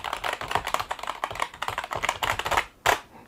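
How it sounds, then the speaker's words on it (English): Fast, steady typing on a Surefire membrane gaming keyboard with a slightly mechanical clack, keystrokes dense and close up, with one short pause near the end before a final burst. "It's almost got a mechanical type noise to it, but with a membrane key."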